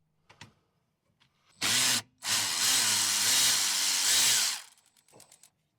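A power tool, likely an impact wrench, spins off size 14 brake caliper bolts on a Toyota RAV4, with a short burst followed by a longer sustained whir, loud and close, with faint clicks before and after.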